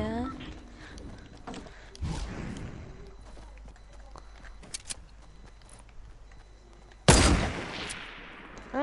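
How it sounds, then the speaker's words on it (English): Sniper rifle shots ring out in a Fortnite match, with a couple of sharp cracks spaced several seconds apart and the loudest near the end, over faint game ambience and scattered footsteps, while players talk. "And I'm getting sniped, how wonderful."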